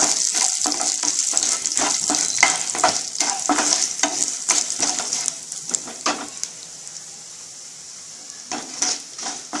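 Chana dal and curry leaves roasting in hot oil, stirred with a spoon that scrapes and clicks repeatedly over a steady sizzle, the stirring easing off toward the end.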